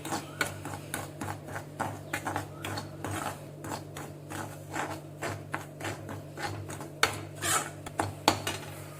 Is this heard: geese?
no